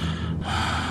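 A single loud, close, labored breath with a wheezy, gasping rasp, from a person struggling to breathe during a tense drama scene.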